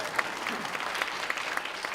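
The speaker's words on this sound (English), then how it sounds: "One more round of applause for the decoration committee" Sustained audience applause for a decoration committee at a courthouse Law Day event, dense steady clapping from a crowd filling the whole stretch at an even level with no talk over it.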